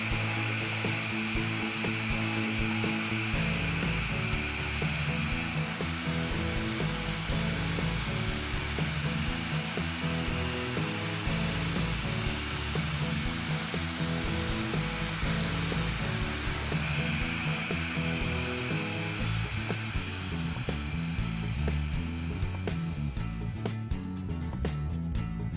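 A JessEm mortise mill drills dowel holes in wood, its motor whining steadily and loudly for the whole stretch, with no pauses and no voices.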